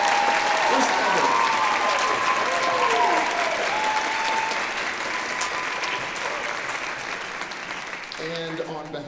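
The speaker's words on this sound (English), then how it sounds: "Give these students a big round of applause." Big, steady audience applause in a concert hall for the Cal State Fullerton Titan High School Honor Band, loud and full for the whole stretch, easing a little near the end as a voice begins.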